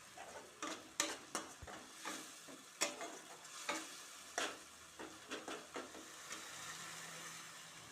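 Mustard paste being stirred into cooked tomatoes in a pan for a pomfret curry: a string of close spoon scrapes and knocks over a soft background sizzle, no talking.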